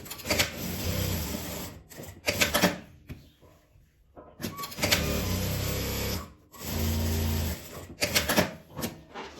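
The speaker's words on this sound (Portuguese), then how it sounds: "vou passar uma costura fechando essa parte toda" Sewing machine running a closing seam along folded fabric, in several bursts of steady mechanical whirring separated by short pauses.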